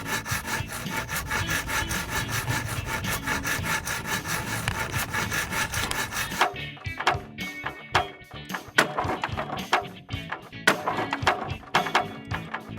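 Wood is sawn by hand in steady back-and-forth strokes, dense and continuous at first, then sparser, with separate rasping pulls standing out clearly and no voices.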